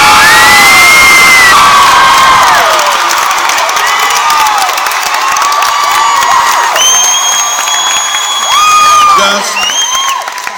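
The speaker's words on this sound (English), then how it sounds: "Let me hear you scream." A large crowd of young people screams and cheers in an arena at a youth rally, loud high-pitched shrieks and whoops rising and falling in overlapping waves, with scattered clapping underneath.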